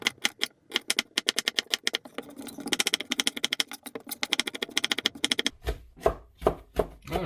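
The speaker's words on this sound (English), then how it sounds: "Next thing we're going to do is cut up our nice purple onion here." A knife chops a purple onion on a cutting board in quick, even taps. A long run of close, crisp strikes gives way to a few slower, heavier cuts at the end.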